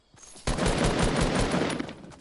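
Fortnite video game gunfire: a sustained, dense burst of rapid automatic shots fired close and loud, starting abruptly and running for nearly two seconds without a break, with no talking over it.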